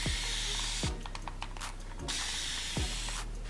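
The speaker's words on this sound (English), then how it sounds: "what's cool about this spray bottle is you see like how I just like went shh and I went shh" A handheld spray bottle mists water onto 4B/4C natural hair, with several short hissing bursts in quick succession under a rough, nearby background.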